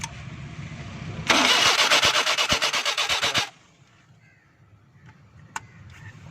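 A car converted to run on CNG cranks loudly for about two seconds with a rapid, rhythmic starter whir, then settles into a quiet idle, with a sharp click near the end.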